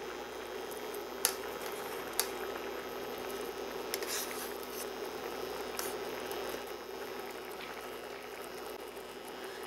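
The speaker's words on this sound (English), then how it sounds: "You just want to turn the fish in the curry sauce so that it coats the fish." Fried fish turned gently in a coconut milk curry sauce, a steady close bubbling simmer throughout with a few soft clicks of a utensil against the pan, no talk.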